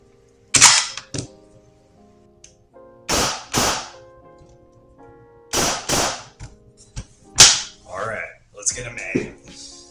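A VFC MCX airsoft rifle test-fired after a split gearbox build, with sharp single snapping shots in irregular pairs and small groups, loud and close, with brief mechanical clatter between them.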